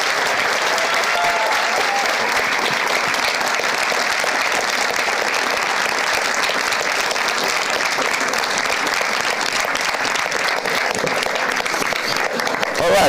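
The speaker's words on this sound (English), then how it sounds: "a big applause" Sustained applause from a large audience at the final pitches of a makeathon, loud dense clapping filling the whole stretch without a break, with a few voices mixed faintly underneath.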